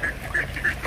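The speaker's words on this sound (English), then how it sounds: "Look at these little ducks." Small ducks quacking by the water in a shaded outdoor spot, three short nasal quacks spaced evenly and heard close and clear over soft ambient noise.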